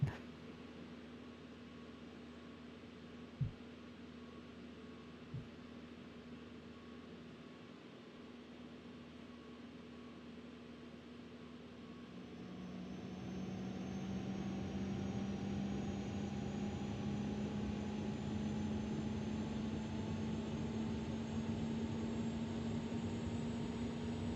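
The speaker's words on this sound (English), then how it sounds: "We'll go ahead and start up our APU, might as well." An Airbus A220 auxiliary power unit spools up in a flight simulator: after a quiet hum and a couple of faint clicks, a rising whine and steady roar swell midway and settle into a loud, continuous drone with a high tone climbing above it.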